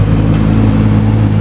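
A 2025 Porsche GT2 RS supercar rolls past on a city street, its engine a loud, steady low rumble with a deep droning tone throughout.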